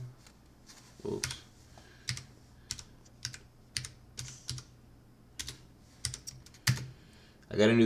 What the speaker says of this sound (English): I got a new keyboard. It's a little bit more clicky than my last one